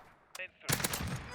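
An AR15 assault rifle fired in a modern warfare video game: a single short report, then a loud, close burst of rapid automatic shots that carries to the end.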